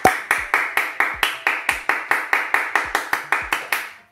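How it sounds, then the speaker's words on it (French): A small group claps steadily to celebrate a combined 26-kilo weight loss, about seventeen sharp, evenly spaced hand claps, close and fairly loud, with no voices over them. "Oui, oui, on s'applaudit,"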